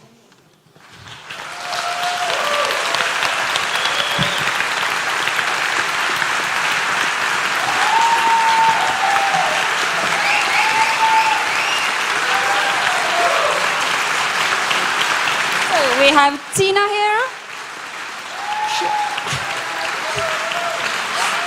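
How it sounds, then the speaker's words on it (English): Sustained audience applause fills the room at a live Mindvalley University 2022 event, steady and loud for most of the stretch, with a host's voice speaking over it briefly and a short dip near the end before clapping resumes. "And the applause is not stopping."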